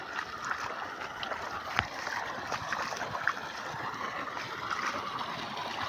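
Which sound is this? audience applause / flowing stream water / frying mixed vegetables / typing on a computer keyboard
flowing stream water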